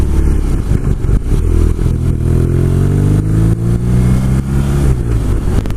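A BMW R nineT Cafe Racer motorcycle is ridden, its boxer engine loud and close, revving up and down through rising and falling pitch with wind buffeting throughout.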